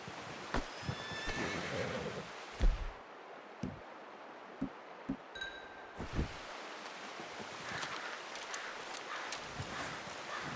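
A horse in the video game Red Dead Redemption 2 gives a close whinny, and hooves clop scattered over an outdoor ambience of wind and rustling.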